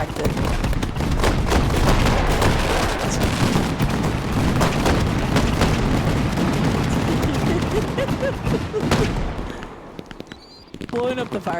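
Fireworks store blowing up in the video game Fireworks Mania: a dense, loud barrage of crackling bangs and booms continues for several seconds before thinning out, with a few scattered pops at the end.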